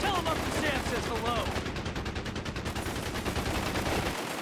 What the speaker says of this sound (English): That'd been an awesome fire in that quad 50 cal.